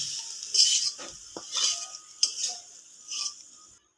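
Onion, ginger and garlic masala being stir-fried in a pan, with a metal spatula scraping and clinking against the pan in several uneven strokes over a soft sizzle, close and fairly loud.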